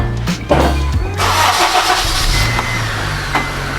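Honda Civic Si with an Invidia exhaust cold-starts up close: a brief cranking burst, a sharp catch, then a loud, steady, rumbling high idle.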